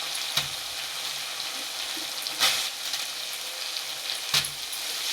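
Spices with turmeric fry in oil in a pan for ghugni, a soft, steady sizzle broken by three sharp stirring scrapes spaced about two seconds apart.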